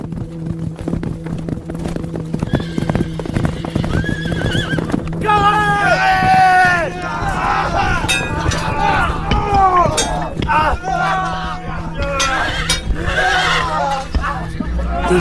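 Horses neighing and whinnying over clopping hooves in a medieval battle scene on a plain, several loud close calls rising above a busy background with a voice narrating underneath.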